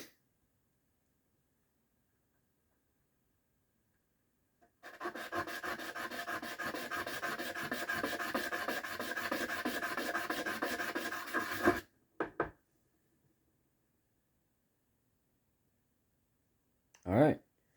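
A blue calcite gemstone facet is rubbed by hand on 350 grit sandpaper, a steady rasping scrape lasting about seven seconds, followed by a couple of short scrapes and a final brief rub, all close in a quiet room.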